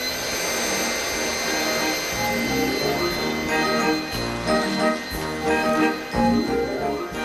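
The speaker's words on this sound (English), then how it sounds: "Billed as the world's first fully automatic robot vacuum cleaner, designed to give your carpet the once-over" A robot vacuum cleaner runs with a steady broadband whir and faint tinkling, mechanical overtones over a carpet, continuous and close throughout.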